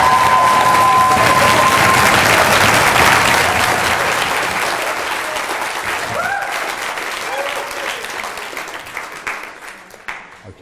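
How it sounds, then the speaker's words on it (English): An audience applauds a guest speaker, loud sustained clapping that gradually thins and fades, with a few voices audible over the tail end. "again, really merits your applause"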